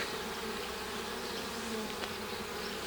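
Honey bees in an alpine-style hive make a dense, continuous buzz, close and even throughout, with no voices.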